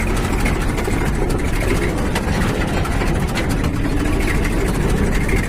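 A tractor engine idles nearby with a steady, low, rumbling drone that stays constant throughout, on a farm field during the sesame harvest.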